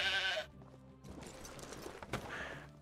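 Sheep bleat in the video game Medieval Dynasty, with a clear nearby bleat at the start and another toward the end, and soft shuffling and footsteps in between.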